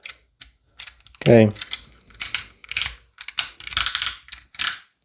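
A replacement blade holder for a utility knife box cutter clicks into its slot with a sharp ratcheting snap, followed by several lighter plastic clicks and taps close up, with a brief spoken word.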